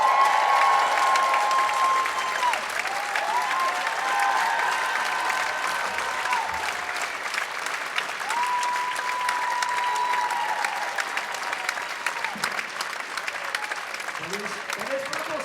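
Steady, dense applause from a concert audience carries on throughout without letup, while tonal musical or vocal lines sound faintly above it.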